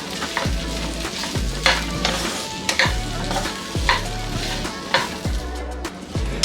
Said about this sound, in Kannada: ಒಂದು 10 ನಿಮಿಷದಷ್ಟು ಇದನ್ನು ಇದೇ ರೀತಿ ಎಣ್ಣೆನಲ್ಲೇ ಫ್ರೈ ಮಾಡ್ಕೋಬೇಕು